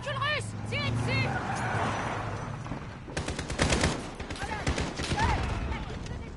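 Bursts of automatic gunfire in Call of Duty Modern Warfare, aimed at a Russian vehicle, rattle loudly over engine noise and sharp impacts, with voices talking through parts of it.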